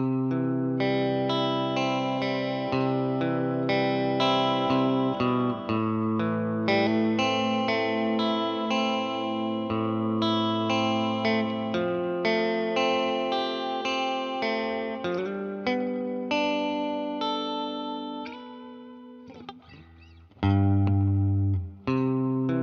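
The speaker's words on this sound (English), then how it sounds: "And here's with the reverb pedal engaged." Electric guitar through a Tweed amp with a Purdy reverb pedal engaged, a long flowing passage of chords and single notes with a wet, lingering tail, ending with a brief low thump.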